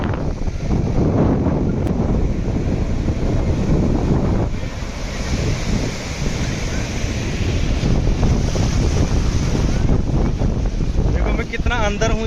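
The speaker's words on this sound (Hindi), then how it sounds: "ये देखो फिर से दूसरी लहर आ गई" Ocean waves wash up onto a sandy shore and slide back in a steady, loud surge, with heavy wind buffeting the microphone throughout.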